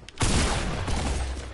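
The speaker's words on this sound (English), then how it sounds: "With a pump shotgun." A pump shotgun firing in the video game Fortnite: one close, loud blast that swells into a dense, sustained roar lasting more than a second, with no talk over it.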